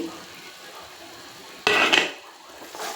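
A spoon scrapes and stirs paneer curry spices and salt in a pan, with a faint sizzle underneath and a sharp burst of stirring partway through, followed by another shorter scrape.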